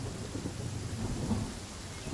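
Rain and thunder in a Genshin Impact downpour: steady hissing rainfall with a low rolling rumble of thunder underneath, continuous and fairly quiet.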